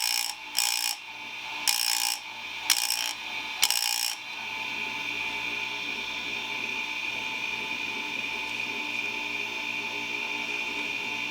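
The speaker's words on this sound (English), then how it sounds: "Now that we've actually sharpened a tooth, let's shut it off, take a look at it." A Foley Belsaw chain saw sharpener whirs steadily, its motor hum running throughout while a few sharp bursts of grinding against chain teeth ring out in the first seconds.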